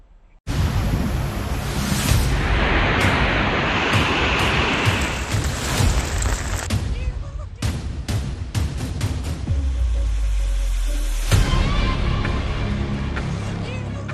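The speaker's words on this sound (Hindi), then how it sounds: "सड़क पर पानी का ऐसा बहाव आया कि भारी भरकम ट्रैक्टर का सड़क पर टिके रहना मुश्किल हो गया" Floodwater rushing across a road in Keshod, Junagadh, Gujarat, strong enough to push a heavy tractor, a loud continuous roar of churning water with wind buffeting the microphone and a few sharp knocks.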